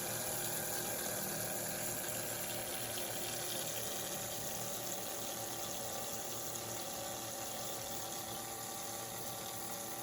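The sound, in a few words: pump circulating water in device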